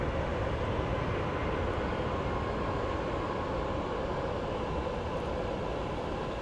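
An ABX Air Boeing 767 taxiing at Phoenix Sky Harbor airport, heard as a steady, continuous broadband jet roar with a low rumble, constant in level throughout and with no voices.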